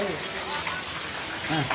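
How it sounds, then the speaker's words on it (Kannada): Heavy rain pours at an outdoor NSS camp, a steady broadband hiss running the whole time beneath people talking nearby. "ಮಂಜು ಅವರೇ, ಧಾರಾಕಾರ ಮಳೆ ಸುರುವುದರಿಂದ ನಮ್ಮ ಶಿಬಿರಾರ್ಥಿಗಳೆಲ್ಲರೂ ಅಸ್ತವ್ಯಸ್ತರಾಗಿ ಎಲ್ಲೆಲ್ಲೋ ಇದ್ದಾರೆ."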